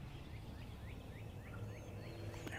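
Wild turkeys gobble several hundred yards off in the woods in spring, a faint, distant run of rapid rattling gobbles over quiet background hiss.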